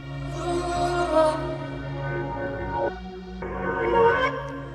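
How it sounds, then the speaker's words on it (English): Reversed vocal samples from a sample library swell and fade in backward phrases, the sung tones rising into abrupt cut-offs, layered over a low sustained bass note in a drill beat, close and moderately loud with no spoken voice. "Now next, I've dragged in some reversed vocals from Splice."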